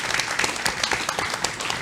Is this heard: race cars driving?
no